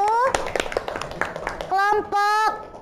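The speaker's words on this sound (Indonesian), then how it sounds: "Tepuk tangan dari kelompok 1." A classroom of children claps in quick bursts of hands for a group, with sharp uneven claps mixed under a voice and a few sustained sung or called tones.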